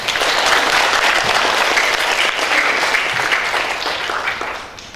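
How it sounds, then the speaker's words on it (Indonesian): Applause from the audience at a vocational health high school graduation ceremony in Pamekasan, a dense, loud, continuous clapping from a large crowd that fades slightly toward the end. "Tepuk tangan."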